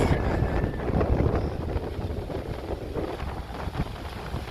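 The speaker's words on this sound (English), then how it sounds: "This wind is getting a little serious." Strong outdoor wind buffeting the microphone on a farm, a continuous loud rushing roar with gusty swells throughout and no talking.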